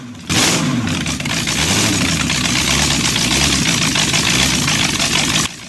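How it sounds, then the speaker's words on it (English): A flathead dragster engine runs steadily at a loud, even idle with a low rumble, starting abruptly and cutting off near the end, close and alone with no voices. "Flathead Dragster engine."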